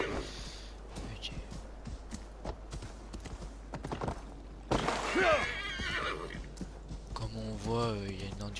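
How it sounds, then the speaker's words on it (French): A horse whinnies in an Assassin's Creed Valhalla game after being called, a loud rising neigh with hoofbeat-like clip-clop and ambient game sounds around it, some breathy noise in the mix. "Je vais appeler mon cheval, comme ça on ira plus vite."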